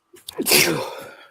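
A single loud sneeze, with a short breathy intake just before it, close to the listener.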